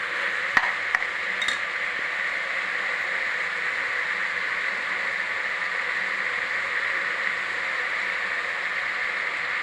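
Ingredients sauté in a pan under a steady, even hiss of frying, with a couple of brief utensil taps near the start and otherwise little movement.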